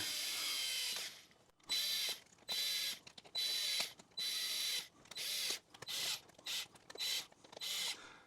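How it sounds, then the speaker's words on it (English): A small power driver whirs in repeated short bursts, about eight close buzzing runs separated by brief pauses, as tiny Torx screws are driven into an RC crawler wheel. "Now I'm using Torx screws."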